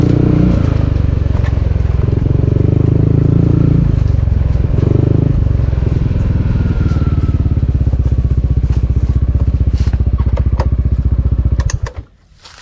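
A water pump engine runs near a pipe on a farm irrigating ampalaya and rice, a loud steady chugging drone with rapid even pulses that cuts off abruptly at the end.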